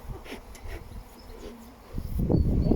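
Honeybees buzz around a hive at a bee school in Scotland, a faint, continuous drone close by, with louder rustling and handling noise toward the end.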